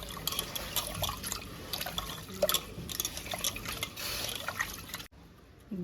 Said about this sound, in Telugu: బియ్యం 2 సార్లు శుభ్రంగా కడిగి పెట్టుకున్నా